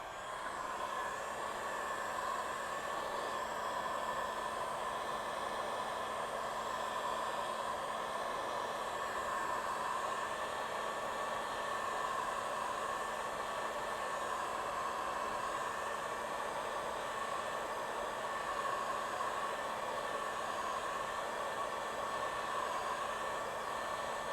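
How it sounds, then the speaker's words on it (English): A heat gun warms leftover 3M adhesive tape on a Harley-Davidson motorcycle saddlebag, giving a steady, close blowing roar with a faint constant hum that runs unbroken throughout, with no talking. "I'm going to take my heat gun and heat it up some more"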